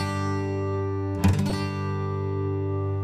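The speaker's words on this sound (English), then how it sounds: "just let your pick kind of scrape across all the strings slowly" A single acoustic guitar chord rings steadily, then a pick rakes slowly across all the strings, giving a short bright scraping strum in the middle before the chord keeps sustaining, close and fairly loud.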